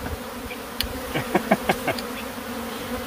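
Killer bees buzz during a removal job, with a steady low drone and several short, sharper buzzes flaring up close.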